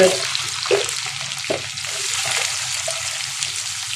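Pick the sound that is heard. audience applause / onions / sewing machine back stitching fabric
onions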